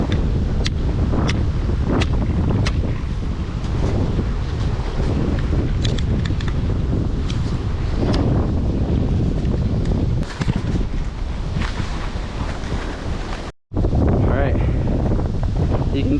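Strong wind buffeting the microphone on a beach in Queensland, Australia, continuous loud rumbling gusts with scattered knocks, a person speaking intermittently underneath.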